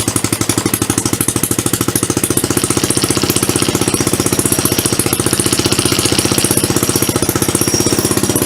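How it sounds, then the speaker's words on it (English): Hammerhead 250 SS engine idling steadily after a tune-up, a loud rapid even putter of firing pulses running close and alone without pause. "We actually have a running motor?"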